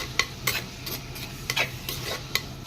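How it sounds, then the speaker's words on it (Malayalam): Onion, garlic and ginger being sautéed in a pan for a beef curry, with soft sizzling and a handful of scraping spoon strokes against the pan at irregular intervals, close and moderately loud. "ഇതിന്റെ പച്ചമണം മാറുന്നത് വരെ നമുക്കൊന്ന് വഴറ്റി കൊടുക്കാം"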